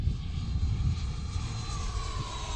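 A battery-powered model airplane in flight: a steady, continuous engine drone with a thin whine on top, holding an even level throughout with no voices.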